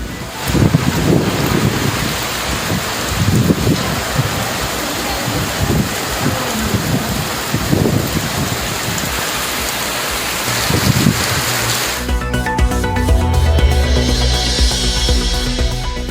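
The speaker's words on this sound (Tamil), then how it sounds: "திண்டுக்கல்லிலும் சுமார் அரை மணி நேரத்திற்கு கொட்டி தீர்த்த மழை" Heavy rain pours down in Dindigul with a dense, steady roar that hisses and surges continuously and loudly throughout, and a tonal news-jingle sound joins toward the end.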